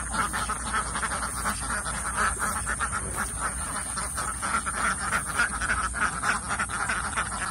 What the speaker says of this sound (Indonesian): Siap-siap, mau dikeluarin bebek kayaknya.